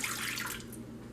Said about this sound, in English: You're going to start off with a half a cup of milk